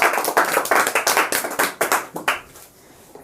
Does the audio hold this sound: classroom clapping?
yes